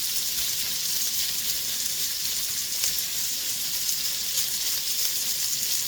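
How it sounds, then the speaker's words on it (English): A pan of bacon and onions fries on medium heat with an even, continuous sizzle, close up and unchanging, with no voices. "Our bacon and onions been cooking away here for about 3 minutes"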